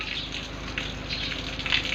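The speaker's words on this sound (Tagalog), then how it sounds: "Kusog na tubig" A strong rush of water gushes steadily from an outlet, a loud hissing spray with slight surges throughout two seconds.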